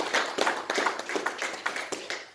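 A church congregation claps hands together at a Sunday evening service, a dense, uneven run of many overlapping claps that goes on steadily for a couple of seconds at moderate loudness, with no speech over it.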